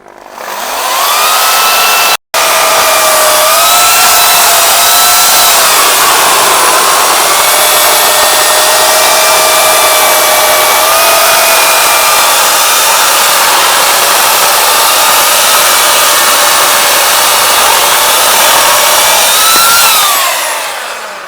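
An electric AL-KO leaf blower whines loudly and steadily for about twenty seconds, with one sudden brief cut near the start and a slight pitch shift as it spins down at the end.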